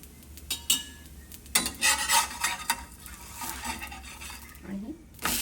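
Oil goes onto spinach thalipeeth on a hot griddle, giving a soft sizzle with scraping and utensil clinks in uneven bursts, close by and moderately loud.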